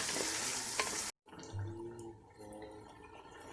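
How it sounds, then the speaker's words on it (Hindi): Potatoes frying in a pan with coriander and garam masala, a soft continuous sizzle broken by a brief silent gap, then quieter bubbling and stirring. "आलू को भूनते हुए तकरीबन 5 मिनट हो चुके हैं।"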